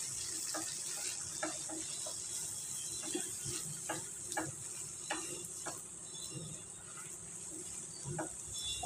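Spinach with peanuts, sesame seeds and ground spices such as coriander powder roasting in hot oil, with a steady sizzle and the scrape and clink of a spoon stirring at irregular intervals, close up and with no talking.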